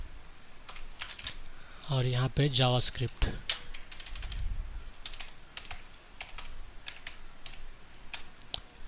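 Rapid clicking of computer keyboard keys while HTML, CSS and JavaScript code is typed for a contact form, steady and close, running under someone speaking Hindi.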